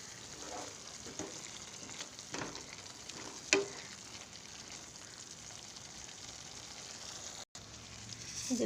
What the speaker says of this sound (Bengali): মশলা আমার ততক্ষণ কষাতে হবে যতক্ষণ না তেল মশলার ওপরে ভেসে ওঠে।